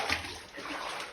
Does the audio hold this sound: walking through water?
yes